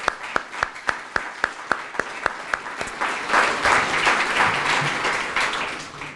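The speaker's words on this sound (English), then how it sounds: "Let's give them a round of applause." At a community grant announcement and birthday celebration, a few sharp, evenly spaced single claps ring out first, then the crowd joins in a fuller, sustained round of applause.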